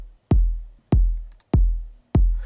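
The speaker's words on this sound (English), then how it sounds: "The first one that I brought in was a more dance," Deep EDM-style dance kick drum for a chill dance beat, four booming hits evenly spaced about 0.6 seconds apart, each with a sharp attack and long sustained low-end tail, heard alone and loud.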